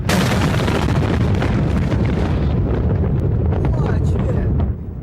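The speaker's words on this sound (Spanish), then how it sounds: "llegó la segunda explosión más grande, equivalente al estallido de 21 toneladas de TNT" A massive blast equal to 21 tons of TNT, the second and larger explosion of the night, erupts as a loud, sustained rumbling roar that fills about five seconds before easing slightly at the end.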